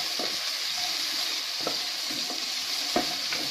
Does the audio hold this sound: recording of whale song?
no